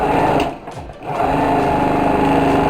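A sewing machine runs steadily while stitching the side seam of a bag remade from a Japanese fukuro obi, briefly slowing near the start and then whirring loud and close with no talk.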